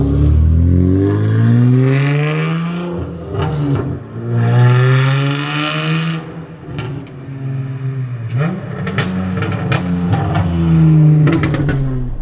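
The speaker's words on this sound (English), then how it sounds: "It's all about the V6 under the hood." A 2017 Honda Accord Touring's VTEC V6 revs repeatedly, rising and falling through long climbing sweeps with a smooth, loud, close engine note and brief clattery blips between pulls.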